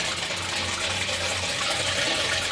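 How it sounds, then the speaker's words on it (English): Water rushing steadily into a water heater tank during installation, a soft continuous gushing and hissing that stays even throughout, fairly quiet and with no voices. "Now the water's going in there."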